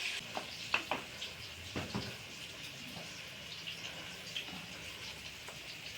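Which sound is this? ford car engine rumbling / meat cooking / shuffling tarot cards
meat cooking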